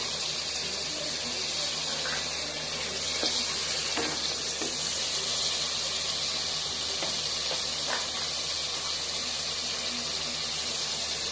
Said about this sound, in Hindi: ये हम सब चीज़ें अब डाल के तो हम इसको अच्छे से भून लेंगे